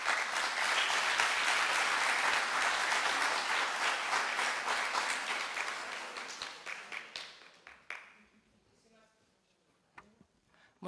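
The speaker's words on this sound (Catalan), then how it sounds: "Un fort aplaudiment per ella" An audience at a diploma ceremony for radio and communication assistant courses gives a loud round of sustained applause, which thins out and fades, leaving a few scattered claps near the end.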